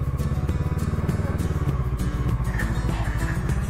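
An adventure motorcycle heavily loaded with a big case rumbles steadily off-road into dry sand in Wyoming, its engine droning loud and close with clattering, uneven throttle pulses throughout.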